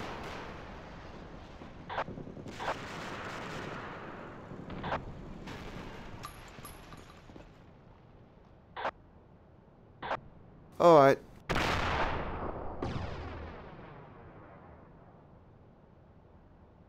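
A 152 mm howitzer-gun M1937 (ML-20) firing in a Battlefield-style video game, with several sharp blasts spaced apart and one big booming shot with a long rolling decay, amid sparse distant gunfire.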